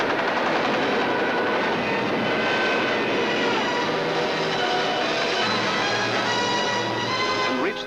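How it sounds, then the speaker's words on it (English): German bomber aircraft engines droning during the Battle of Britain in WW2, a loud, steady, continuous roar with dense rumbling texture throughout and a brief whine near the end. "Some of the German bombers broke through London's defenses."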